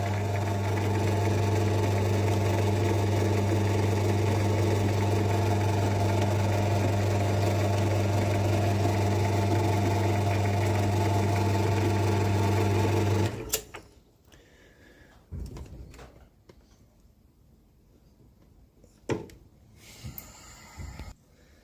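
A Hercus lathe cutting metric threads into metal runs with a loud, steady motor hum and whine for about thirteen seconds, then stops abruptly, leaving faint clicks and handling noises.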